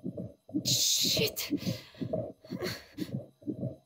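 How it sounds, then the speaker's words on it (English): A heartbeat sound effect pulses in the horror video game Amnesia: Rebirth as a steady rhythm of about eight dull low thumps. A breathy hiss and a short muttered word from a player sit over the beats. "Sounds like the heartbeat's still going."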